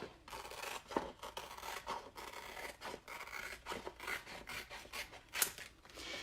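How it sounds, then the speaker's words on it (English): Scissors cutting paper along marked cut lines for a home wreath project, with repeated crisp snips and rasping rubs, close and moderately quiet with no talking. "These are the cut lines, which we're going to do right now. So we'll just cut these."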